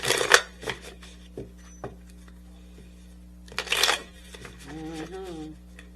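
Tarot cards shuffled in a couple of quick riffling bursts near the start and again midway, with a few soft card taps in between and a low steady hum underneath.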